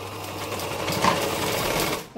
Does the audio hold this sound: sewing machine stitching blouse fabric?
yes